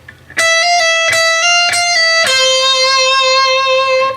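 Electric guitar lead line from a solo, quick picked notes with smooth hammer-ons and pull-offs, ending on a long sustained bent note.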